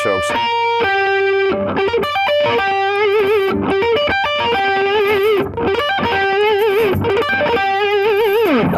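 Loud distorted electric guitar plays a fast metal lead line of downstroke-picked notes mixed with slurred pull-offs and bends, continuous and close.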